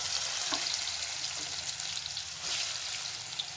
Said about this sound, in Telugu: స్టవ్ ఆఫ్ చేసేసినాను, వేడైంది. ఈ ముక్కలు వేసుకోవాలి